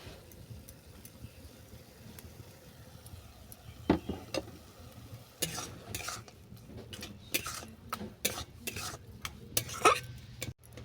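A spatula stirs and scrapes khoa kheer, sugar and crushed cardamom filling in a pan, with quiet, irregular clinks and knocks against the metal that grow busier and louder in the second half, without talk.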